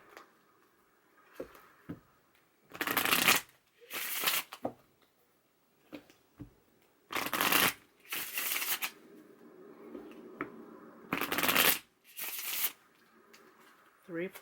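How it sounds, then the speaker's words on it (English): Tarot cards are shuffled in several quick riffling bursts, crisp and close, separated by pauses where a person speaks quietly. "let me pull 3 cards on this top row."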